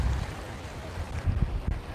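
Wind buffeting the microphone at the seafront in Alcudia, Mallorca, a steady low rumble with stronger gusts thumping near the end, no talking.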